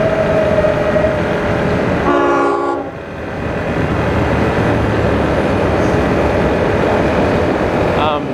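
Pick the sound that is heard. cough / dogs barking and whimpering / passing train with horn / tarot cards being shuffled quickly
passing train with horn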